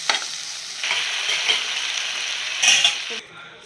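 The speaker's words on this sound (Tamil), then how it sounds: "தக்காளி, வெங்காயம், சுண்டல் வதக்கி விட்டு கொஞ்சம் வதக்கிறோம்" Tomato, onion and chickpeas sauté in a pan for chana masala, giving a steady close sizzle broken by repeated stirring and scraping of a utensil against the pan. The sizzle cuts out near the end.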